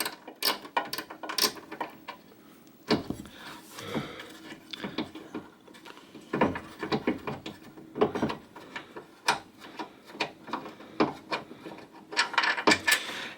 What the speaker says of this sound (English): now I can remove the bolt out of here